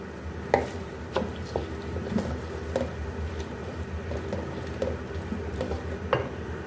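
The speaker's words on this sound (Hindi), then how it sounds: "अब वो इसमें हम ऐड कर लेंगे और इसको हम अच्छे से मिक्स कर लेंगे" Soaked moong dal being stirred into cooked tomatoes in a pan, with a steady run of soft scraping, squishing strokes and light clinks over a faint sizzle, close and moderately quiet.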